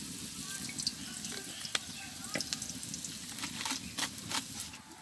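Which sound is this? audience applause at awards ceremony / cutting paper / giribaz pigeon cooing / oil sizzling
oil sizzling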